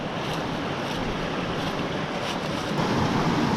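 Rushing water roars without a break near the top of a waterfall in New York, a loud, dense, continuous wash with no voices.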